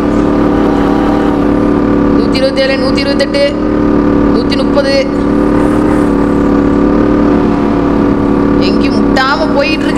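A KTM Duke 690 motorcycle in GTA San Andreas holds near top speed, a loud, strained, steady engine drone with a buzzing harmonic whine that lasts the whole time while a man calls out numbers over it.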